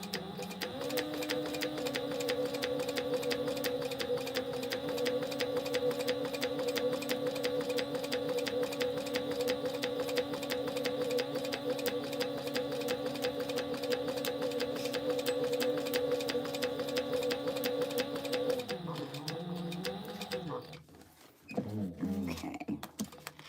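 Sewing machine running steadily as it top stitches a woven label on an Aries crossbody bag, a continuous close mechanical whir with a fast needle rhythm that slows and stops near the end.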